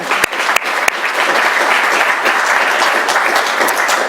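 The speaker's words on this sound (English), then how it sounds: "So we can take a moment and applaud Catherine." Audience applause after a talk at a diplomacy and development event, dense steady clapping from a roomful of people with a few sharp nearby claps.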